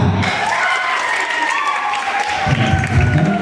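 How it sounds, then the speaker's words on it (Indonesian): An audience at a children's Easter church contest claps for participants from several groups, a dense burst of applause in a room that rises again toward the end, with some voices mixed in. "kita tepuk tangan dulu buat peserta dari Rayon 2, 5 dan 6"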